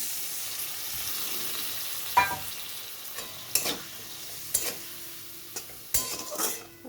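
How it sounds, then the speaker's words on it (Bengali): Ginger and cumin spice paste frying in a pan, a low steady sizzle broken by a handful of sharp scraping stirs of a utensil against the pan, close and quiet. "মশলাটা ভালো করে কষাতে হবে।"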